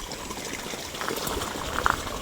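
Water trickles and gurgles through a small stream in a little wetland, a soft, continuous burble with a few brighter splashes near the end, heard alone.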